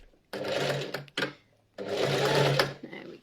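A sewing machine stitches a straight seam on a children's coat in two bursts of rapid, even motor whirring, separated by a brief pause with a click, and a person talks softly in between.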